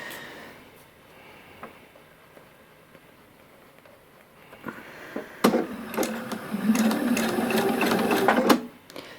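A sewing machine stitches elastic onto a fabric face mask: a few scattered handling knocks give way to a loud, steady, close whirring run of stitching that stops abruptly near the end.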